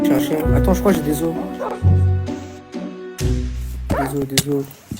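A dog barks and yips a few times amid busy Minecraft game music and effects, with people talking over it.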